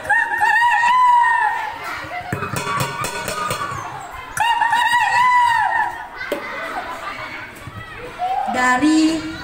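Roosters crow repeatedly, their long calls overlapping and answering each other amid lively background noise.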